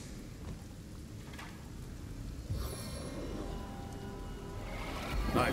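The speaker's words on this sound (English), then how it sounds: "Lightning crackles from my fingertips." A lightning spell in the video game Divinity: Original Sin crackles with a continuous sizzling hiss. Sharper electrical bursts flare up partway through and again near the end, with no speech over it.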